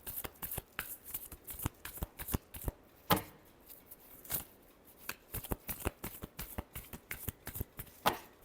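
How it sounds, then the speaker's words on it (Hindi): A deck of tarot cards is shuffled by hand in a quick, irregular run of crisp riffling and slapping bursts, close and fairly quiet, with no voices. "Last shuffle."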